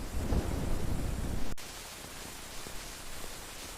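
Rain with a storm in a cartoon street scene: a rumbling roll over steady falling rain, then a sharp crack, after which quieter, even rain continues alone.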